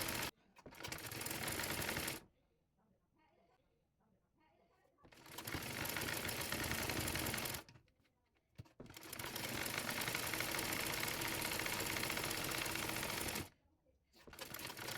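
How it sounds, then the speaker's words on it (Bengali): Sewing machine stitching a princess-cut blouse, running in three bursts of steady whirring separated by pauses of silence. "এভাবে অপর পাশটিও সেলাই করে নেব।"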